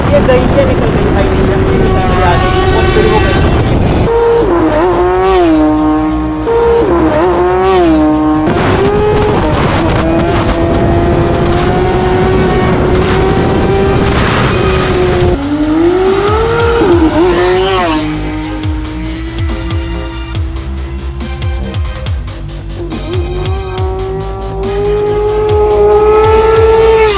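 A supercar at full throttle in a drag race against a Kawasaki Ninja superbike roars loudly and continuously, its engine pitch climbing repeatedly and dropping back through a series of gear changes.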